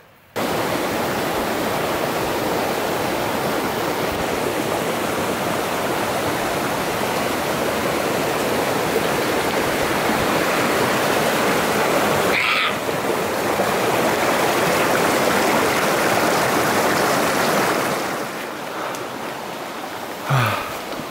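Broadband rushing of a river flowing through brushy terrain along an old jeep road, loud and continuous for about twenty seconds, easing slightly near the end with a couple of brief handling bumps.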